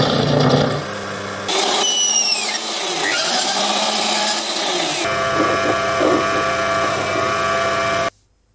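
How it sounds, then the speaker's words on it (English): A bandsaw cuts through 303 stainless steel threaded rod with a loud, steady machine whine and grinding, its pitch shifting partway through, then stopping abruptly near the end. "I used the parting tool to cleanly remove the thread before cutting the sections with the bandsaw"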